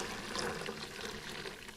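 A short, fairly soft stream of cooler water poured into a sous vide bath being brought to temperature, a brief trickling splash with no voices.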